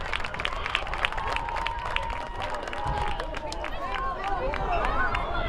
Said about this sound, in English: How about a round of applause for our 5th and 6th grade tackle football.